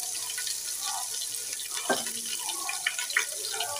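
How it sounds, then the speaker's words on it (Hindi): Water pours into a pot for cooking half a kilo of soaked rice, a continuous close splashing stream with a few drips and small clatters, no voices. "और फिर हम इसमें पानी शामिल कर देंगे।"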